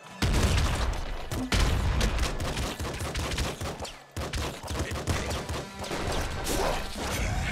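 Rapid pistol gunfire from the top-down video game Nuclear Throne, dense and continuous with game effects and crashing impacts layered over it, loud throughout with a brief gap near the middle.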